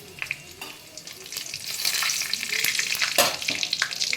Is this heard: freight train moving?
no